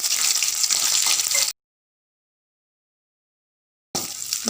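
Grated coconut sautéing in a little oil in a pan for a Tamil paruppu thuvaiyal, giving a steady loud sizzle that cuts out to silence partway and then resumes.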